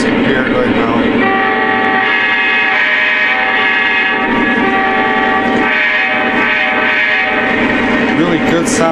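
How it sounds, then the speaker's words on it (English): A loud, sustained horn from a Lionel Union Pacific SD70ACe model locomotive blares with rich harmonic tones, steady and close, under a layer of mechanical rumble. "my favorite feature on this engine is the horn"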